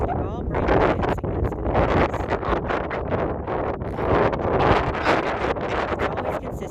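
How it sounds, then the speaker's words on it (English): Strong wind buffets the microphone on an open horse farm, a loud and constant rumble with gusts, and someone talking underneath it. "There's always wind when we decide to video."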